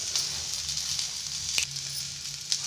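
Chillies and garlic sizzle steadily in hot oil in a pan for fish curry, a continuous close frying hiss with a few brief clicks of stirring, no voices.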